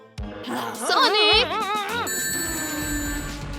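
A cartoon phone rings loudly in bright, warbling electronic tones, followed by a steady sustained ringtone chime, close and clear with no talk over it.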